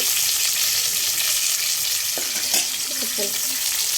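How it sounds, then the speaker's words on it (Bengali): Pointed gourd and spiny gourd fry crisp in oil, filling the clip with a loud, steady sizzle and a few light knocks of a spatula near the end, close up with no speech. "পটল আর কাঁকরোল সুন্দর করে ভাজতেছি"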